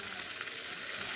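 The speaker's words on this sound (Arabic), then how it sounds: "في طاسة يدوبك فيها معلقة زيت واحدة، هبتدي انزل بالجمبري" Shrimp and calamari frying in a pan with about a spoonful of oil, giving a steady, close, bright sizzle that holds evenly with no talk.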